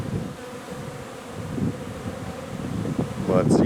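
Dense, steady buzzing of many honey bees close by at a hive in November sun, with brief louder swells as individual bees pass near, and a light breeze in the background.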